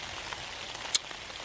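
Rain patters steadily on a tent during wild camping on a long crossing of the Lofoten archipelago in Norway. It makes a dense, even hiss close by, with one sharper drop tapping partway through.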